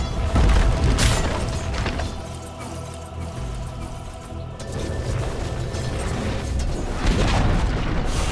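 A tower under attack and collapsing in Dota 2 brings heavy booming impacts and crashing rumbles, loud at first and then continuing through a dense game mix.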